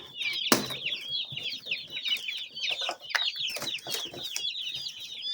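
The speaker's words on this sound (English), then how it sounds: "60 meat birds just arrived, and we need to unpack them into the brooder." Newly arrived broiler chicks, a batch of yellow meat birds, cheeping constantly in a brooder, a dense, high chorus of overlapping peeps, close and lively, with a few sharp knocks and rustles among them.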